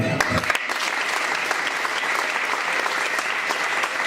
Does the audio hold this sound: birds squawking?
no